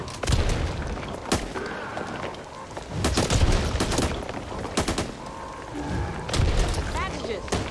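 Bursts of gunfire in the zombie shooter Back 4 Blood on PS5, several sharp shots and rattling volleys at close range over a rumbling game mix, with a voice talking in between.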